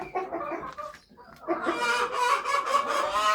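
Hens in a coop with nesting boxes cluck and cackle noisily, several birds calling close by in overlapping, insistent bursts that grow louder partway through.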